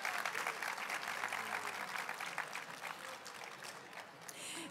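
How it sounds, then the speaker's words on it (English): A small audience at a book talk on endemic Chilean plants applauds the book's art coordinator, steady moderate clapping that carries on evenly, somewhat distant and quiet, with no talk over it. "let's give her an applause"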